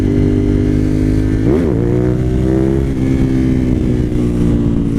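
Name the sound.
Suzuki TL1000R motorcycle engine revving to the rev limiter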